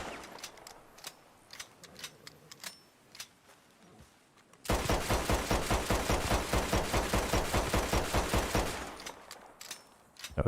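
Rapid pistol fire from a magazine-fed handgun in Red Dead Redemption 2, a loud, fast, steady burst of shots lasting about four seconds, with scattered single shots and quieter game ambience before and after.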